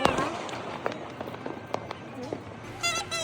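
Fireworks and firecrackers go off around buildings in Baguio City on New Year's Eve, a series of sharp pops and bangs of varying distance over a crackling, busy background, with a rapid burst of crackles near the end.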